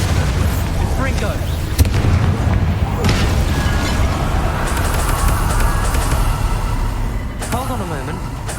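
Spell blasts from Confringo and Bombarda in the Hogwarts Legacy video game, with booming explosions and crackling bursts over game sounds while a voice shouts the spell names throughout.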